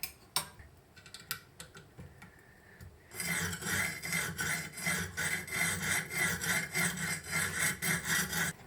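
Steel knife blade stroked repeatedly across a sharpening stone, a steady rhythmic scraping with regular back-and-forth passes that starts after a few seconds of quieter handling noises, close and fairly loud.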